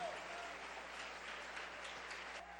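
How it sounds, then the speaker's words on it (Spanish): A church congregation applauds in a steady, dense wash of clapping that lasts the whole moment without a break. "Dale ese aplauso al Rey."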